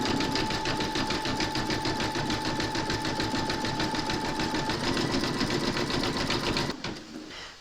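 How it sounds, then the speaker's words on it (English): An embroidery machine zigzag-stitches around the head of a large koala applique, a loud, rapid, even needle chatter that runs steadily for several seconds before stopping. "we're now going to stitch round number 5, and that's going to zigzag around the rest of the head"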